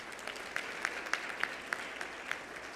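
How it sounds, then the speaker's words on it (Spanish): Applause rises from the audience at a formal health and education project results presentation in Guatemala, a soft steady patter of clapping with a regular, evenly spaced clap standing out above it. "Un fuerte aplauso para ellos."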